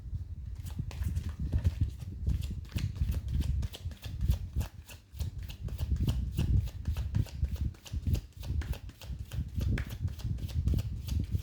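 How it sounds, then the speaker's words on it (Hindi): A deck of tarot cards is shuffled quickly by hand, giving a close, soft run of riffling flutters and papery taps in a steady, hurried rhythm throughout. "एक बार और थोड़ा सा क्विक शफल करेंगे"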